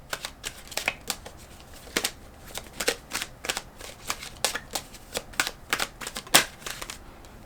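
Tarot cards are shuffled and drawn, a rapid series of crisp riffling snaps and flicks close up, steady throughout with no talking.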